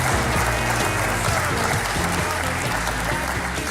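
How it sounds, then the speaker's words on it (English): A studio audience gives a big round of applause, a dense, steady wash of clapping that holds at full loudness throughout, with faint musical tones underneath. "How about a big round of applause?"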